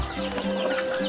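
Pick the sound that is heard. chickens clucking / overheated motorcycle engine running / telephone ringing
chickens clucking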